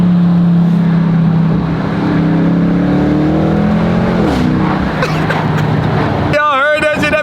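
An RT car engine idling and revving after a downshift, a loud steady rumble with pitch sweeps and a sharp change in tone near the end, while someone talks over it.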